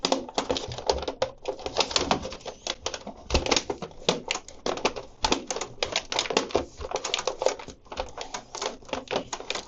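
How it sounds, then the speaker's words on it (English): A jammed sheet of paper is eased slowly out of an Epson EcoTank L3270 printer's rear tray with the print head pushed up, giving dense, rapid close-up clicking and crackling that continues steadily throughout. "push the print head up and very slow, very slow, try to remove the sheet of paper"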